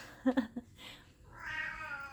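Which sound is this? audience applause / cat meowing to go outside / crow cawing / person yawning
cat meowing to go outside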